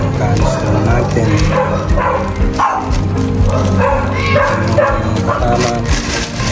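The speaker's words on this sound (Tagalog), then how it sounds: "pasensya na tayo kasi marami ding may aso rito" Several dogs bark near a spot where an MT8 exhaust is being fitted to a Yamaha Fazzio scooter, loud and steady for a few seconds with voices talking over them.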